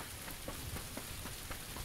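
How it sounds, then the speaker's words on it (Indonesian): Steady rain patters on a surface throughout, a soft, even hiss with scattered drop taps, faint and unbroken, with no voices. "kita review pas hujan-hujan begini ya"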